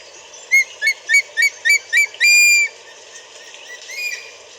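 An eagle calls in a series of six sharp, whistled chirps followed by a longer piercing cry, loud and fairly close over steady background hiss.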